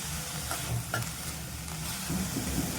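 Fenugreek leaves and tomato being stir-fried in a pan for methi bhaji, with a soft steady sizzle and a few light scraping stirs, fairly quiet and with no voices.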